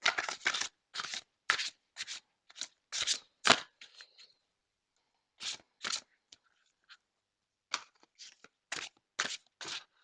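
Gaia oracle cards being shuffled by hand, a series of short, crisp riffling bursts, close and fairly quiet, with pauses between groups and no talk.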